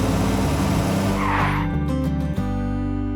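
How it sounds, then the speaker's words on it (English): Cartoon giant toy car rolling in a garden, a loud close engine roar with tire skid that cuts off abruptly, followed by quieter tonal sound. "they spotted a giant toy car rolling toward them"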